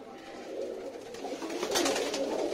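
Pigeons coo softly nearby, a low murmuring call with some light rustling and fluttering in the background.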